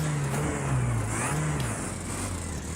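Two-stroke kart engine from Project Cars 2 revving steadily with a buzzing, wavering pitch that rises and dips, close and continuous for a few seconds with no talk.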